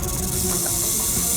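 A snake hissing in a dark room, a loud continuous breathy hiss close by that holds steady with no voices over it.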